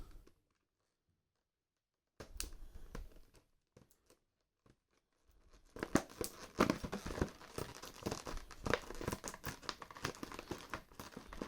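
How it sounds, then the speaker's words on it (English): A knife slices open the cardboard and plastic box of a knockoff Ryu Hayabusa Ninja Gaiden 2 action figure. Near silence gives way to crinkling and tearing that builds into a steady, busy rustle of packaging. "let's take our knife and let's try to open this guy"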